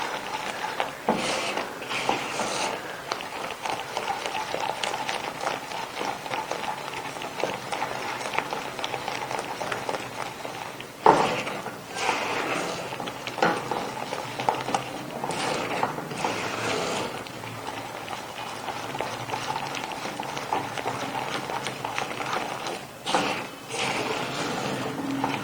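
A spoon works continuously through a besan laddu sugar mixture in a pan with the stove off, giving a steady close scraping and clattering, with louder bursts of strokes every few seconds and no voices.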